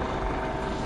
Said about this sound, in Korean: 헬기 온다